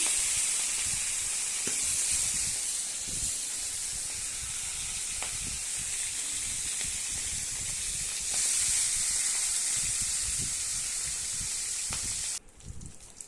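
Steady, dense sizzling of tilapia, rubbed with salt and turmeric, frying in hot oil, continuous and close, with a brief clatter near the end.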